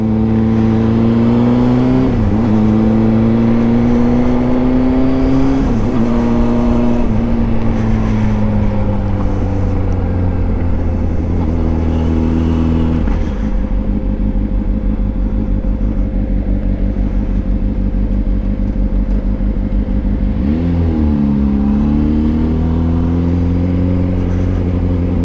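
A Honda CBR sport motorcycle engine drones steadily at close range, its pitch climbing and dropping with gear shifts and throttle changes, loud and continuous throughout.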